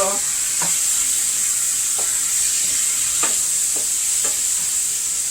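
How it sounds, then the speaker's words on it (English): Roasted tomatoes and oil sizzle in a pan, a steady, close frying hiss that runs throughout with a few light clicks and taps on top and no talking. "I'm adding a little bit of this roasted tomatoes, and then I'm gonna add a little bit of the oil also"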